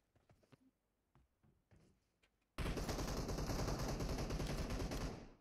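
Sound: gunfire in PUBG Mobile video game

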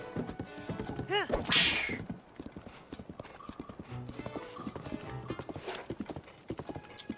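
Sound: horse galloping in video game Tears of the Kingdom

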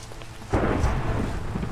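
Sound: thunder and rain in a video game (Utopia world)

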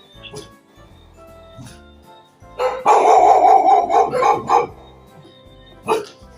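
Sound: dogs barking

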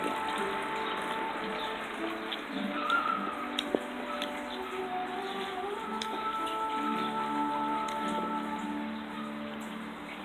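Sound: small indoor water fountain in a shop

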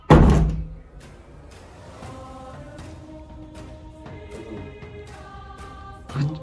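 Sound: door being closed

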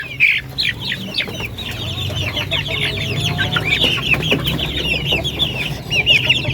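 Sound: hungry breeder chickens clucking

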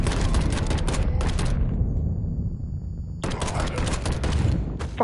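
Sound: shotgun fire in video game Mafia 3

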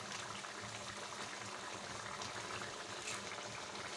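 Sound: tamarind kuzhambu (curry) boiling in a pot

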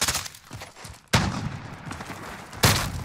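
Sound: shotgun firing in a video game

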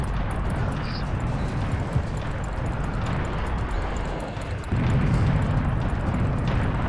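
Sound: cannon firing and explosions in video game Serious Sam

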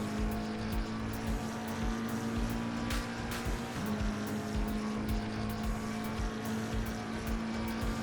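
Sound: race car accelerating on a straight, Assetto Corsa Competizione video game

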